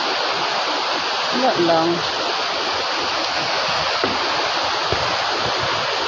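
Steady broadband rush of a flowing stream called Wangan, loud and continuous throughout, with a man's brief speech over the water.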